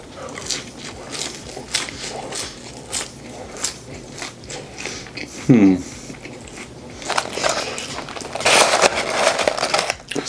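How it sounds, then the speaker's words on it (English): McDonald's french fries, skinny and lightly salted, crunched in a few close bites, with a sharper burst of crunching near the end amid background voices and rustling. "Let's try these McDonald's fries."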